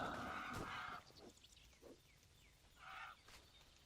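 Honking birds attack during combat in the video game Titan Quest Anniversary Edition, giving several short goose-like honks and squawks, fairly faint and spread across the moment with brief gaps between calls.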